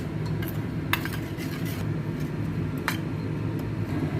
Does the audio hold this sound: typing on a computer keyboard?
no